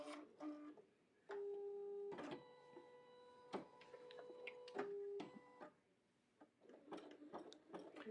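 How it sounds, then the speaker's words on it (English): Machine embroidery in progress on a design of rock formations and wall cracks, with bursts of rapid mechanical whirring and steady hum from the stitching machine, pausing briefly between runs, fairly quiet and close with no talk. "it's stitching some of the rock formations"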